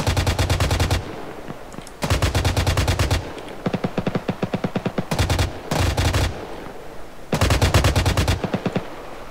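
Rapid automatic gunfire from a video game set among 1980s Mujahideen, heard as several loud bursts of machine-gun fire separated by short pauses.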